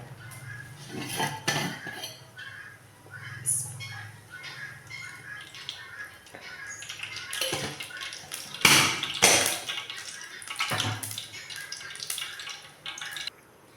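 Clattering metal cookware as a wok is set on the stove and oil added, with scattered clinks and scrapes and a few louder bangs, close and intermittent.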